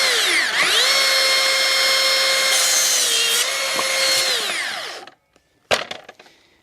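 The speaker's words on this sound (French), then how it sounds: "le scie circulaire." A circular saw running on a guide rail cuts through a floorboard with a loud, sustained whine that winds down as the cut finishes, followed by a few sharp knocks of wood and handling.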